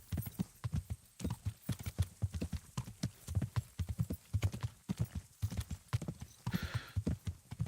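Horse hooves clip-clopping in Kingdom Come: Deliverance, a steady, rhythmic series of many close hoofbeats at a walking pace, fairly quiet, with no talking.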